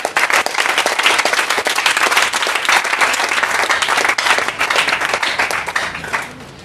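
A church congregation at a Sunday morning service breaks into loud, dense applause, many hands clapping fast and close for several seconds before it tapers off at the end, with no clear voices.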